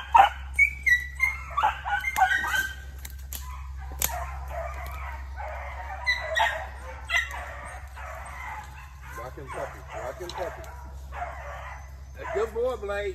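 Four-month-old beagle puppies bay and yip while hunting rabbit outdoors at night, a pack of overlapping howls and whimpers at moderate distance over a steady low hum, with people talking and calling out.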